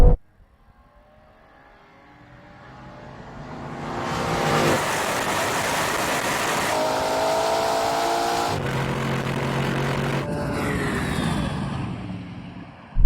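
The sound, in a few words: Urus SE, Purosangue, Cayenne Turbo, RSQ8 drag racing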